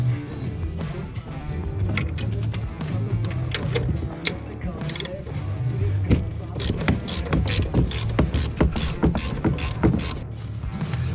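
A ratchet fitted with an 18 mm socket works shock nuts loose on a Silverado Trail Boss coilover install, making rapid, repeated close clicking in bursts throughout, with some background noise.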